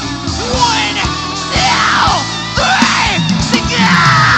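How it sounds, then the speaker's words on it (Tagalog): A concert crowd at a show shouts and cheers very loudly in repeated surging waves, with a strong rhythmic beat thumping underneath. "sisigaw kayo ng sobrang lakas"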